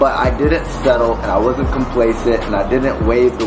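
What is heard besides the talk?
No everyday noise stands out behind the speech.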